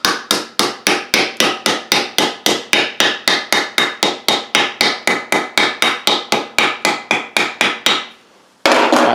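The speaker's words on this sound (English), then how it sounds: "We're going to lightly tap it in here." A double-bit axe head is lightly tapped onto its handle, about thirty steady, evenly spaced sharp knocks, close and loud, that end abruptly with a short silence.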